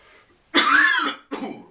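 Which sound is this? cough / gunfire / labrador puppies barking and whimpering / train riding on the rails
cough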